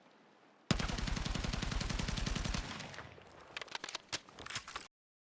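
M417 rifle hip-fired in a video game: a loud, rapid sustained burst of automatic shots, then a few scattered single shots and clicks before falling silent.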